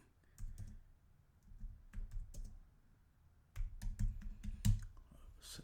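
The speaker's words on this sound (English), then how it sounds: "Let me type this in real quick." Bursts of quick clicking keystrokes on a computer keyboard, close and fairly quiet, with a short pause before a denser run of typing.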